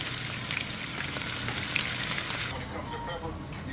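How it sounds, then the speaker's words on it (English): Beef ribs searing in a pan give off a loud, dense, continuous sizzle with crackling spits, close and steady, easing slightly toward the end. "I'm going to let this go a little bit longer until I get all sides seared up"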